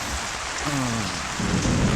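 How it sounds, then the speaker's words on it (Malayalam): Heavy rain pours steadily outside during a thunderstorm, a dense, constant hiss with low rumbling beneath it, loud and unbroken throughout. "പുറത്ത് നല്ല ഇടിയും മഴയാണല്ലോ"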